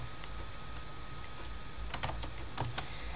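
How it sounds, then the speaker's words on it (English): Keys tapped on a computer keyboard while entering a Linux terminal command, a sparse run of soft, close clicks with short pauses and a few quick clusters near the end. "Next, we type in sudo"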